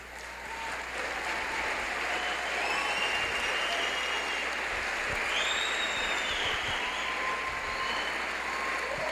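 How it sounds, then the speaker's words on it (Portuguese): Sustained applause from a lecture audience after a talk about the Creator and the big bang, even and moderately distant for nine seconds, with faint voices mixed in. "Um grande Criador merece ser aplaudido realmente, sem dúvida"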